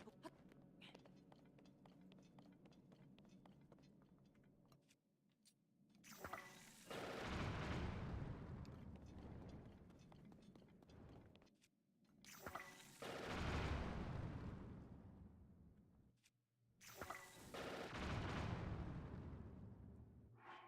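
Heavy booming gunfire erupts in three long, loud bursts from a Tears of the Kingdom game, separated by quieter gaps filled with low background noise.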